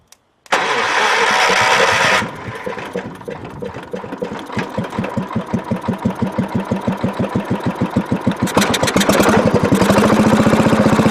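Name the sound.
1975 John Deere 300 tractor engine starting and idling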